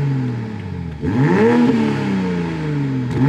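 A Toyota Avensis engine revs in park, climbing from idle to a strong whirring rise, easing back, then blipping again, loud and close with no talk.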